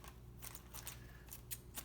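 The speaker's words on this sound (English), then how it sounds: "I think I need sharper scissors" Dull scissors cutting material during a Sea-Doo Speedster jet boat rebuild, a series of quiet, close snipping crunches at an uneven pace, about six cuts, with no talk.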